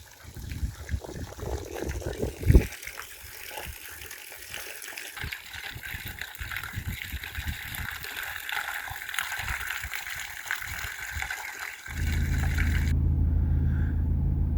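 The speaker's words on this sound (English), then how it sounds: "the water's running away constantly" Floodwater running through a village streams steadily in a broad rushing wash, joined partway through by a deeper, louder low rumble near the end.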